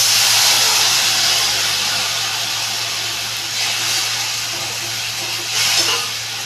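Ginger, cumin, garlic and tomato paste hitting hot fried onions in a pan, a steady broad sizzle and hiss that swells briefly as the masala is stirred.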